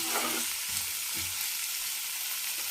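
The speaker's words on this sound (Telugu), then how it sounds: "అందుకే కొంచెం దోరగా వేయించుతున్నాను" Cucumber pieces fry lightly in a pan, a continuous hissing sizzle with a few low stirring knocks early on.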